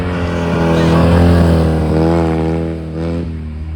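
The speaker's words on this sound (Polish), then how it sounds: "Przerywa mu ten silnik, no, bo on tam miał problemy w ogóle na carbonarium z zapaleniem." A Fiat 126p rally car engine sputtering and misfiring during a rally stage in Silesia, a loud, close, uneven droning with wavering pitch and no speech.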